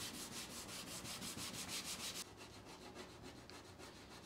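Sandpaper is rubbed over car body paint to take it down to bare metal, making quick, rhythmic scratchy strokes close by; the strokes are brisker at first, then softer and steadier, with no talking.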